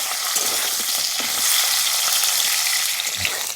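Potato pieces frying in a small amount of oil left over from frying shol fish, a steady close sizzle with light crackling throughout and no voices.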